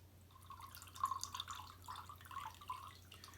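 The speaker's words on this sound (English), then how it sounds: "And I'll just slowly pour." Ice cold water trickles slowly from a carafe into a glass of absinthe, a faint, steady series of small drips and splashes lasting a few seconds with no talking.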